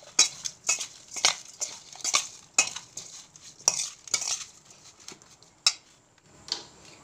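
A spoon stirs a mixed vegetable pickle of carrot, cauliflower, turnip, chili and lemon in a pot, making close, irregular scraping and clinking strokes against the metal for several seconds.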